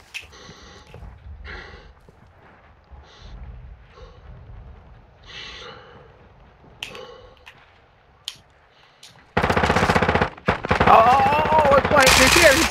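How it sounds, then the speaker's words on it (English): Bursts of automatic gunfire from a first-person shooter game break out in the final few seconds, loud and dense, after a quieter stretch of scattered game effects and faint voices. "You are taking effective fire."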